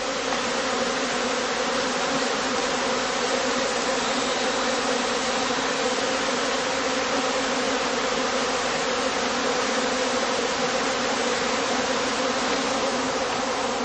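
Honeybee foragers swarming at the entrance of a heather skep hive in a heathland apiary, a dense, continuous buzzing hum of many bees close to the microphone, steady throughout with no voices.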